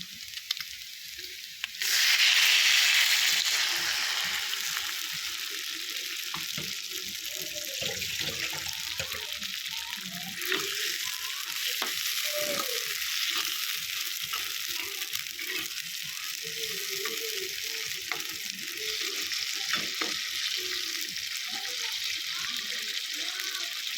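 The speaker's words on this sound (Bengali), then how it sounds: "এখন ঝোল দিয়ে দেবো।" Broth poured into a pan of frying pork curry with radish and potato, a loud hissing rush of liquid at first that settles into steady bubbling and sizzling, with a voice speaking over it.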